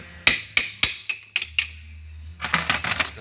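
A hammer strikes a metal punch to drive out a part of a Kawneer door closer. Six sharp, evenly spaced blows ring out, then a brief pause, then a quicker cluster of lighter taps.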